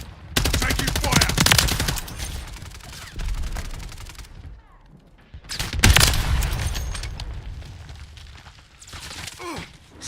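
Heavy automatic gunfire in Call of Duty MW3, bursts of rapid shots rattling loudly, easing off, then a sharp blast and another stretch of fire.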